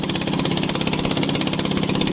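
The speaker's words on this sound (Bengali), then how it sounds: "আর নৌকা আস্তে আস্তে স্টার্ট দিয়ে সামনে আগাচ্ছি।" A small fishing boat's engine on the Meghna River chugs steadily with a fast, even putt-putt rhythm, loud and close, running without pause.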